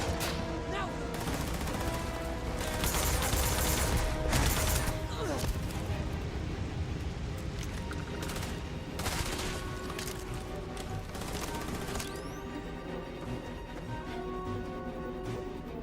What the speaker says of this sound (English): Someone is over there with a lot of bullets.